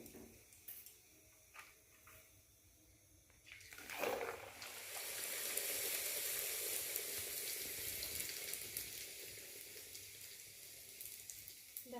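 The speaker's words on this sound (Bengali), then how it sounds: "আর কয়েকটা আছে ভেজে নিই" Luchi deep-frying in hot oil gives a steady, broad sizzle that swells after a few quiet seconds and holds fairly loud near the pan, with faint clinks early on.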